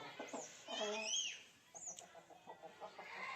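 Newly arrived hens cluck on a farm in a short burst of rising and falling calls, followed by softer scattered clucks at close range.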